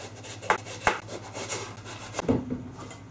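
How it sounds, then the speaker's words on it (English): A knife slicing an aubergine into half-centimetre slices on a board, a few crisp cuts with a short rubbing scrape between them, close and moderately loud, with no talk. "I'm going to cut the aubergine into slices about half a centimeter thick."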